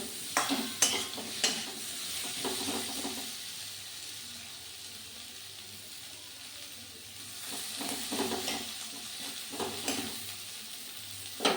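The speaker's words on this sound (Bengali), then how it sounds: "আর বেগুনটাও একটু ভেজে নিচ্ছি" Potato and eggplant sizzle in an oiled pan while water spinach is cooked, a steady frying hiss with occasional sharper crackles and spatula stirring scrapes near the start and end.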